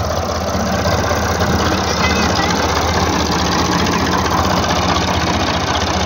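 A tractor engine idles steadily while the machine is stuck in a pit during a trip to fetch soil, giving a loud, continuous, close rumble with no break throughout.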